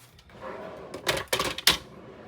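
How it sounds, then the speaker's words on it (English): A paper trimmer handled up close on a crafting table, giving a few sharp plastic clacks and rattles in quick succession after a quiet start, with no voices. "Now, I want to bring in my trimmer."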